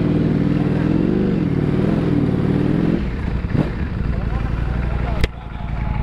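A Ducati Streetfighter motorcycle engine idles with a steady, rumbling throb close by, then drops to a lower, rougher running sound partway through, with a brief sharp click near the end.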